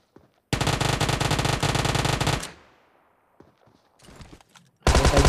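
Automatic weapon fire in the shooter game PUBG Mobile: a long loud burst of rapid rhythmic shots that ends in a fading tail, then scattered faint shots, then another loud burst at the end.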